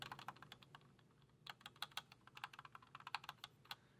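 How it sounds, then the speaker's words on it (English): Rapid keyboard space bar presses, a dense run of sharp clacks in an irregular rhythm, close and fairly quiet with no talking. "Now I'm going to do the space bar."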